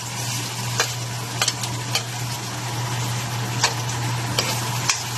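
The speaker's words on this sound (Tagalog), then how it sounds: "At pagkatapos ay ilalagay natin yung ating sauce" Soy sauce goes into a hot pan while eskabetse cooks, giving a steady loud sizzle with scattered sharp ticks and clicks of stirring, with a low hum underneath.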